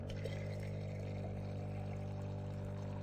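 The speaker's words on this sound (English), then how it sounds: "All you'll hear is running water" Water pours steadily from a filter vial into a glass, a continuous close stream of running liquid with no voices over it.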